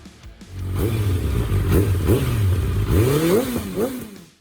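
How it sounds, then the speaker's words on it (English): A Honda CB650R four-cylinder motorcycle engine revs up repeatedly from idle, each blip rising in pitch and dropping back. The sound is loud and close, with no speech. "Idling in at number 15 is the Honda CB650R."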